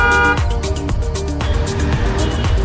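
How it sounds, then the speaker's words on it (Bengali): A pop horn fitted to a 2025 Suzuki Gixxer FI motorcycle blares in loud, sustained bursts, each long honk cutting off abruptly before the next one sounds, close and alone without any talk. "শুনেন হর্নটা কেমন জোস"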